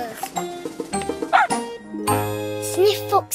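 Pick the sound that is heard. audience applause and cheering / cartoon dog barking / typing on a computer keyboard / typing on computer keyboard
cartoon dog barking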